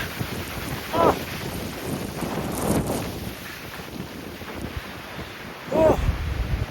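Strong wind roaring across the microphone near the summit of Mt. Whitney in 60+ mph gusts, a steady loud rushing noise with a couple of brief vocal exclamations over it.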